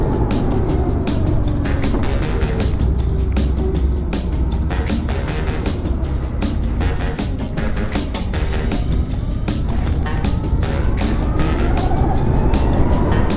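A 2020 Harley-Davidson LiveWire electric motorcycle rides along with a loud, constant road and wind rush, rapid ticking transients, and a faintly rising and falling whine throughout.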